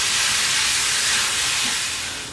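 Meat browning in a cast iron pan makes a loud, steady broadband sizzle that hisses evenly throughout and fades slightly at the end, with no voices.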